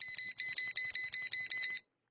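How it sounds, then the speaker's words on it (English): A handheld non-contact electrical tester held against the insulation of an orange extension cord gives about eight rapid, evenly spaced high-pitched beeps, close and loud, then stops. "touch this non-contact electrical tester against the insulation of an orange extension cord anywhere on that extension cord, and it will beep."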